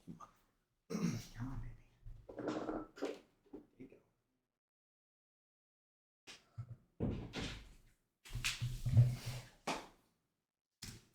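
An office door is closed, giving a few short knocking thuds and bumps spread among gaps of near silence, close by and moderately loud, with other brief handling noises around them.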